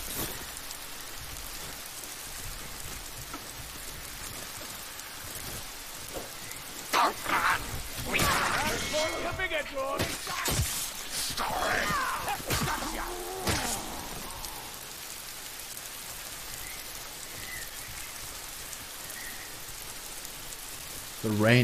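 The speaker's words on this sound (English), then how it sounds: "The rain is so calming." Steady rain falling in the Warhammer: Vermintide 2 forest level Athel Yenlui, a continuous hiss with scattered drops and a few louder gusts and thuds midway.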